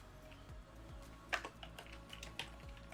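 Light keystrokes tap out text on a computer keyboard in a quick, uneven patter over a low steady hum, with one sharper click standing out; faint and close, no talking.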